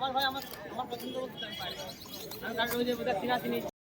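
Fancy breed pigeons cooing softly at a market, their low murmurs close by under someone speaking throughout.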